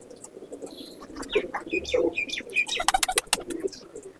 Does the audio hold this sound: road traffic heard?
no